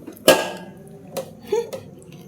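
Crunchy bites of oil-free papad crisped in an air fryer, with a sharp loud crack followed by a few softer crunches close up, no talking.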